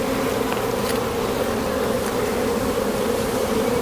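Dense, steady buzzing of a honey bee swarm around an open hive during a Demaree brood box inspection, close and constant throughout with no talk.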